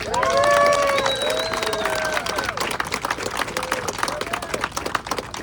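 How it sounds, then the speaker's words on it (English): Outdoor crowd at a street dedication ceremony in Farmingdale Village clapping steadily, with whoops and cheers riding above the applause for about five seconds. "Your heartfelt efforts deserve recognition and a round of applause."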